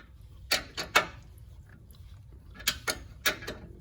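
A 19 mm wrench tightening the rear wheel nut on a bunch bike gives a handful of sharp metallic ratcheting clicks in two short clusters, close and fairly clear over a quiet background, with no talking.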